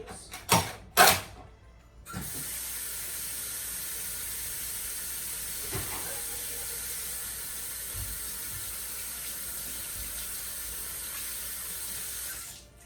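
A kitchen tap runs steadily as hands are washed, a steady close hiss that comes on after a couple of sharp knocks, with faint clinks and creaks underneath.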